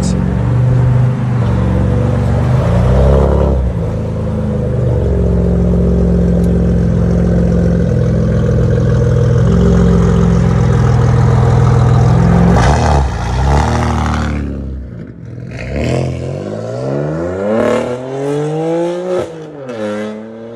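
A BMW M3/M4 with a 3.0-liter turbo engine and straight-pipe exhaust into a 2.5-inch system with rear deletes and quad carbon fiber tips drones loudly at steady revs, then rips through sharp rising and falling revs and pops near the end.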